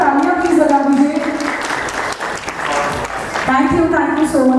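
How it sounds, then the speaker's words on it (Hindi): Loud applause from the audience at a medical awards ceremony in Agra fills the room continuously, while a sustained tonal voice or music rises over the clapping at the start and again near the end. "आपको एक बार जोरदार तालियां प्लीज बजा दीजिए"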